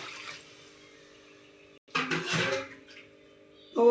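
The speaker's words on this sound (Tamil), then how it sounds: "நம்ம கரெக்டாக அளவான தண்ணி ஊற்றி" Water pours into a cooking pot of mushroom biryani in a home kitchen. The pour is a short, close splash lasting under a second, after a quiet stretch, with a faint clink at the end.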